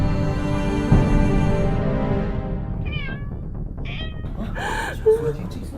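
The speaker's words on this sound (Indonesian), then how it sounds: "Ada suara kucing." Cat meowing in a tense indoor scene, a few short mewing cries rising over continuous background music and voices, fairly close and moderately loud.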